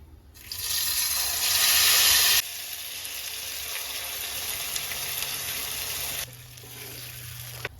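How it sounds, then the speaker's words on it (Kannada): Freshly ground masala paste hits hot oil in a pan already fried with cloves and bay leaves for matar paneer masala, setting off a loud, hissing sizzle that eases into a steady, close frying crackle. "ಇದರೊಳಗಡೆ ನಾನು ಇವಾಗಷ್ಟೇ ಮಿಕ್ಸಿಗೆ ಹಾಕೊಂಡಿರೋ ಪೇಸ್ಟನ್ನ ಹಾಕೊಳ್ತಿದ್ದೀನಿ"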